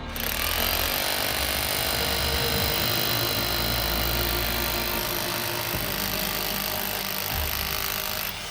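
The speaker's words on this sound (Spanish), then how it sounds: "Ahora vamos a poner en marcha este martillo demoledor de 2200 vatios" A 2200-watt electric demolition hammer runs without pause, a loud, dense hammering roar that stays steady throughout, with no voices.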